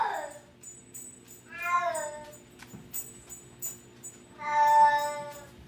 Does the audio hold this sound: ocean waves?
no